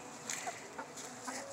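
Several roosters clucking and calling in short bursts over a steady outdoor background, with occasional higher squawks scattered through.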